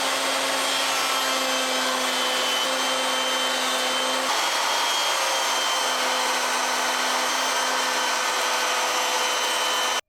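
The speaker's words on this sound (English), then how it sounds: "I'm going to use my rabbeting bit at the router table." A steady, loud high-pitched whine of a router table with a rabbeting bit running continuously, with a constant motor hum that shifts slightly partway through as walnut is cut.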